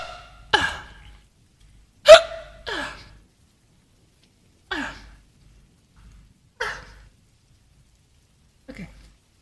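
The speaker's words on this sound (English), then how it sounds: "I have hiccups." A person hiccups six times at uneven intervals, each a sharp, close catch of breath with long quiet gaps between. There is no talking.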